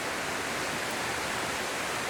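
A large waterfall in a park roars as a steady, dense broadband rush of falling water, loud and continuous throughout with no voices over it.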